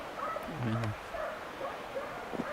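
Hunting dogs on a wild boar hunt give a short, close bark and yelp, with a few fainter yips mixed into surrounding talk.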